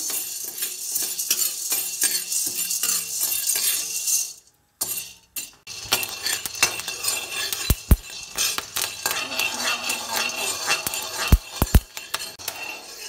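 Maize kernels being dry-roasted in a pan at home for a toddler's litto porridge give close, busy clattering and scraping with metallic clinks, a brief pause partway through, then louder knocks.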